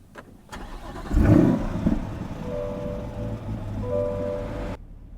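A Chevrolet Corvette Stingray 3LT starts up: a brief crank catches into a loud surge, then the engine settles into a steady idle that holds for several seconds before cutting off.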